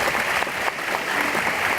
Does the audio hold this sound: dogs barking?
no